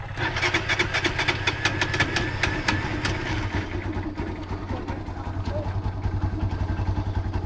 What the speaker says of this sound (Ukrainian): Далі перевести в середнє положення і нажати кнопочку стартера.